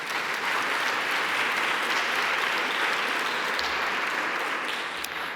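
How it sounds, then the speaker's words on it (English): Sustained, dense applause from a large audience at an evening science conference session in a festival hall, steady and full-bodied for the whole stretch without fading. "Let's give her a warm applause"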